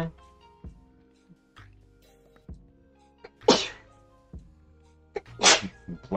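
Two sharp sneezes, one near 3.5 seconds and another near 5.5 seconds, burst out over quiet background clicks and murmurs in a home setting during an online game session.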